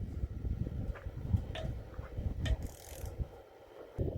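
A torque wrench clicking while engine bolts are tightened during an engine rebuild, with a few sharp ratchet clicks and mechanical handling noise close by, no talking.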